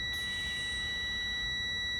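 A truck's low air pressure warning alarm sounds continuously as a steady, piercing electronic tone at constant pitch, loud and unbroken, over low mechanical rumble, activating at about 68 psi.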